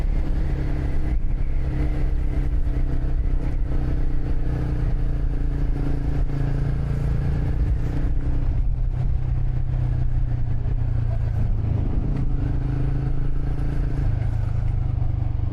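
Loud, close engine rumble and revving of a passing vehicle on a village road in Bangkalan, Indonesia, with rattling clatter, continuous throughout and no talk.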